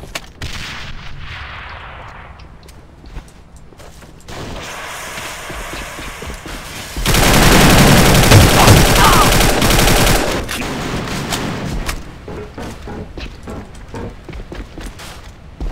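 Gunfire in the online shooter AVA: scattered shots, then a loud, dense burst of rapid automatic fire lasting a few seconds, followed by quieter sporadic shots and game noise.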